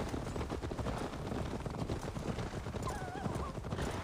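Several horses gallop in the video game Assassin's Creed Valhalla, with a dense, continuous clatter of hooves across the whole stretch and a brief whinny near the end.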